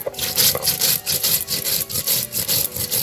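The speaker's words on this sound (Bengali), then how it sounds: "বেটে নিব কাঁচা লঙ্কা।" A grinding stone works green chillies and spices in steady back-and-forth strokes, a loud rhythmic gritty scraping repeating about every third of a second, alone and close.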